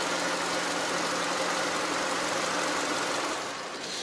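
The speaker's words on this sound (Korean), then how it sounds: "차량 엔진 소음 먼저 들려드리면은" Hyundai Sonata The Brilliant LPi engine idling with the bonnet open, a steady, fairly quiet broadband hum and low mechanical whir that holds evenly throughout with no talking.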